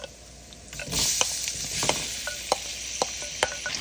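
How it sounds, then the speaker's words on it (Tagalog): Tomatoes added to sautéed onion and ground ginger fry in a pan, a steady close sizzle broken by sharp scraping and tapping clicks of stirring. "Ngayon, ilalagay naman natin ang ating kamatis."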